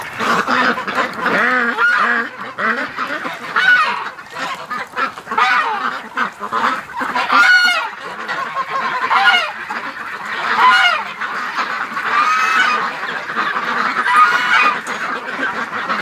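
A flock of ducks honks and quacks continuously, many overlapping calls nearby, loud and busy throughout.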